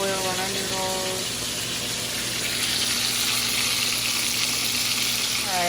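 Pasta noodles cook in a pot of water at a rolling boil, giving a continuous rushing bubble that swells slightly partway through, close and steady, with faint tonal sounds at the start and end.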